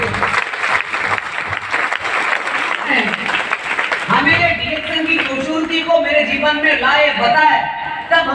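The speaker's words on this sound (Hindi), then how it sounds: "जोरदार तालियां" An audience at a business meeting claps steadily for several seconds, a dense patter of hands, before a man's amplified speech takes over over the fading applause.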